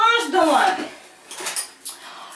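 A spoon clatters and scrapes against dishes while a mayonnaise-dressed herring salad is being prepared, a few bright clinks up close with a voice speaking around them.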